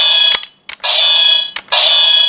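Electronic attack sound effect from a DX Tegasword Super Sentai toy sword, a loud synthesized alarm-like tone blaring in three bursts separated by short gaps.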